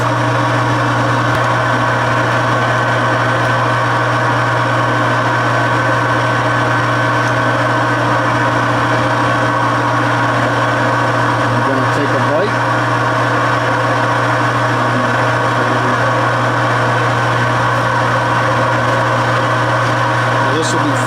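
A Delta carbide tool grinder runs steadily with a constant mechanical hum and whine that holds evenly throughout, with only a slight disturbance partway through.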